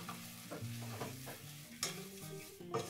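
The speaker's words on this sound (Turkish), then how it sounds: "Şimdi başından hiç ayrılmadan orta ateşte irmiğimi kavuracağım" Semolina roasted in melted butter and oil in a pot over medium heat, with steady stirring scrapes and a light sizzle under soft background music.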